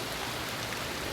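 Steady rain falls during a fishing outing, a brief, even hiss of drops pattering on surfaces with nothing else standing out.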